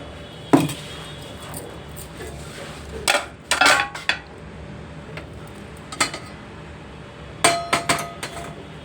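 Jackfruit seeds being peeled and cut in a kitchen, heard as scattered sharp knocks and clinks of a knife against a board or vessel, in a few separate clusters with quiet gaps between them and no talking.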